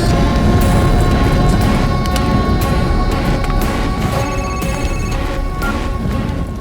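A phone rings with a steady repeating tone, half-buried under a loud, continuous rumbling and crackling roar.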